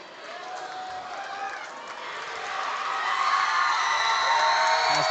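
A basketball crowd at a girls' regional quarterfinal game cheers and shouts in a broad, sustained roar that swells louder partway through and stays raised to the end.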